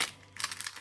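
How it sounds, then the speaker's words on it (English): A craft stencil is tugged from its plastic packaging, giving a quick burst of close crinkling and rustling in the final half-second after a short pause. "get this out of the stencil out of the plastic quickly"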